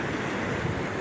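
Sea waves wash onto Mehdia beach near Kenitra as a continuous, full roar of surf mixed with wind buffeting the microphone.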